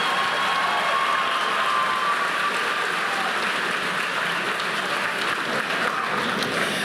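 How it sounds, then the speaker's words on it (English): Audience at a middle school eighth grade graduation applauds steadily, a dense, sustained crowd clapping that holds at an even level throughout with no talking. "Let's give our students a round of applause."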